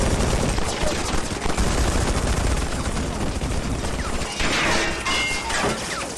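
Gunfire from a film fight scene rattles in dense, rapid bursts like machine-gun fire, loud and continuous throughout with sharper cracks near the end.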